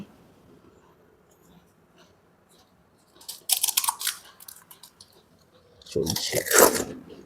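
Panipuri (fuchka) shells crunch loudly while being eaten during a speed-eating challenge, in two dense bursts of close crunching chewing separated by quieter stretches.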